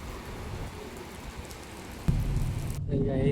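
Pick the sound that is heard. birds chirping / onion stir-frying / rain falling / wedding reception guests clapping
rain falling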